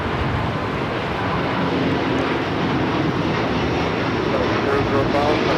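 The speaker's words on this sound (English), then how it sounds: "China Airlines Flight 5 taking off to Taipei on the A350-900" A China Airlines Airbus A350-900 takes off, its jet engines a loud, steady broadband roar that holds for several seconds, with voices talking over it.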